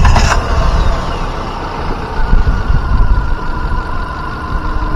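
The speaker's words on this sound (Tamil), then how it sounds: "வாங்க வண்டியோட இன்ஜின் சவுண்ட் எப்படி இருக்குன்னு கேட்போம்." A 2021 Hyundai Santro with an MPI petrol engine idling up close, a steady, smooth low rumble with a faint whine and no revving, after a brief sharp noise at the very start.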